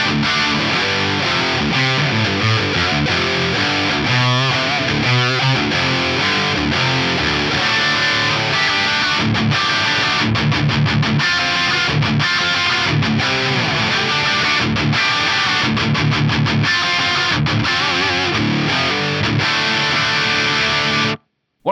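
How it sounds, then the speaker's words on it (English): An electric guitar plays through an amp with a dry, close tone, steady chords and riffs filling the whole stretch before stopping abruptly; 90s-style tone from a Soldano amp and Axe FX3. "So this is the dry sound."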